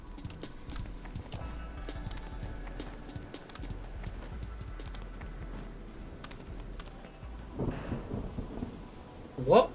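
Thunderstorm weather in the video game MotorSlice: steady rain with rolling rumbles of thunder, the sound holding constant and building into a louder surge near the end.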